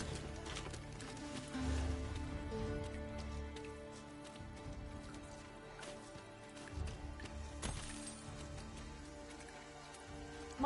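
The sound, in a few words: rain in a video game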